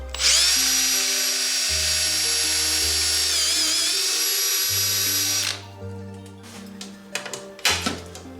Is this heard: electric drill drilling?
yes